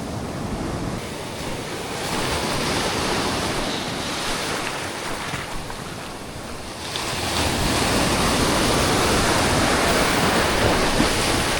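Large ocean waves roar and crash continuously, a loud rushing surf mixed with wind buffeting the microphone, swelling stronger in the second half.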